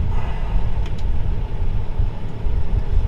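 A Kubota M7.173 tractor engine, working a slurry tanker, runs nearby as a continuous low rumbling drone with no talk.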